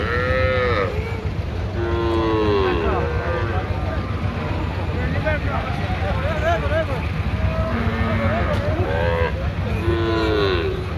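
Cattle moo repeatedly and loudly at a village livestock market in Jamalpur, with several long drawn calls from nearby animals over steady crowd and engine noise.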